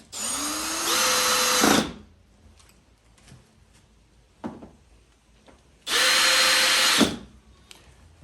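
A power drill drives windshield mounting screws for a Freedom Shields 12-inch sport windshield in two loud, close bursts of rising whine, each about one second long, separated by quiet handling clicks and a soft knock.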